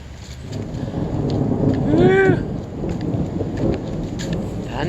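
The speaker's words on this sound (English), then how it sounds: "Thunder." Thunder rumbles through steady rain falling on surfaces outdoors among flowers, building to a loud roll midway, then fading back under the continuous patter.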